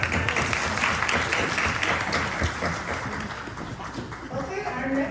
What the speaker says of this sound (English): Congratulations and another round of applause for Amaya.